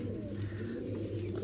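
A female pigeon coos in low, steady rounded calls, close by and fairly loud throughout, with no talking over it.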